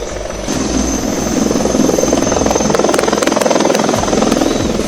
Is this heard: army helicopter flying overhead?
yes